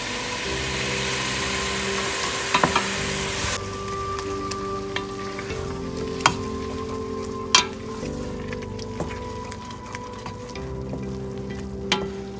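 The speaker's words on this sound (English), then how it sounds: "We're going to start by deglazing this with a half a cup of red wine." A pan of cooked onions deglazed with red wine, sizzling softly with occasional scrapes and clinks of stirring; a low steady background hum runs under it, and no one speaks.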